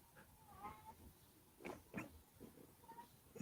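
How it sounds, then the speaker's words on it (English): Cats outdoors give a few faint, squawky meows and brief yowls at a distance, scattered over quiet background noise. "Cats being squawky out there."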